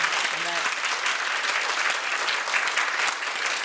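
Audience applause at a Korean textbook policy forum held at the National Assembly, a dense, steady wash of many hands clapping that fills the room evenly from start to end, with a brief voice near the beginning.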